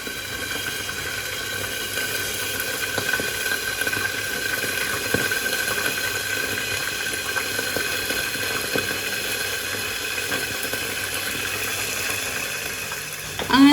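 Chicken fries in oil seasoned with chili, turmeric and pepper powder, a continuous even sizzle and bubbling hiss at moderate loudness, with a short clatter right at the end.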